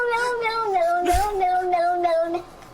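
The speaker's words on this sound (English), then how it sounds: "That's a funny cat." A cat letting out a long, wavering, drawn-out yowl close up, bending in pitch as it goes and then cutting off near the end, with no talk over it.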